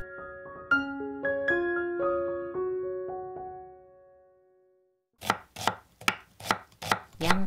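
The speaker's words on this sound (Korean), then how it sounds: "양파 반 개를 아주 얇게 썰어 주세요." Knife chopping thinly sliced onion on a cutting board: about six crisp, quick cuts at the end, following a gentle melodic tune that fades out.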